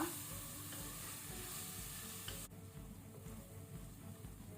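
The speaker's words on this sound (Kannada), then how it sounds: "ಈಗ ಟೊಮ್ಯಾಟೊ ಸಹ ಪೂರ ಮ್ಯಾಶ್ ಆಗೋ ತನಕ ನಾವು ಇದನ್ನು ಮೀಡಿಯಂ ಫ್ಲೇಮ್ ಅಲ್ಲಿ ಫ್ರೈ ಮಾಡುವ." Tomatoes frying on a medium flame for a mutton green masala, giving a steady, close hiss and crackle of sizzling with soft stirring throughout and no talk.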